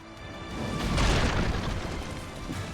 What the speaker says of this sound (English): Just got stomped by a cannon.